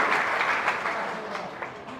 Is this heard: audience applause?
yes